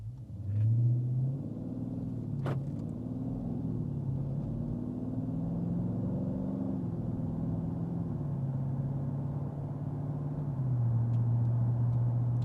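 A deep Dodge Charger Scat Pack Widebody V8 engine rumbles and rises in pitch as the car pulls away, revving steadily and close by with no talking.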